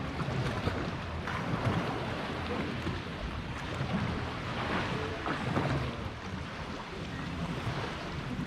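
A boat passes on open water in the Crapolla fjord on the Amalfi coast, a steady broad engine wash mixed with waves and wind buffeting the microphone, with no voices present.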